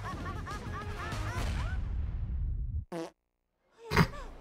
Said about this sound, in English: Why the fart sound though?